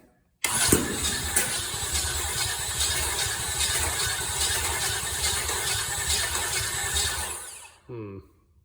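An old Chevy small-block 350 V8 engine cranks with a loud, fast rhythmic churning for several seconds without settling into a steady idle, then cuts off, followed by a brief voice.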